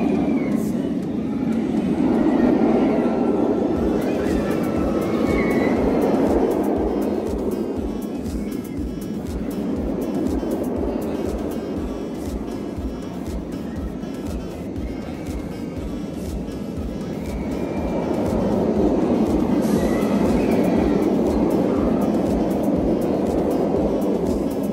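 A roller coaster train at a Six Flags park rumbles past on a rainy day, swelling and fading twice, with a steady rhythmic clatter along the track and some crowd noise in the background.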